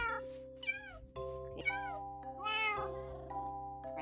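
A kitten in the Minecraft video game gives several clear, rising and falling meows over steady game background tones.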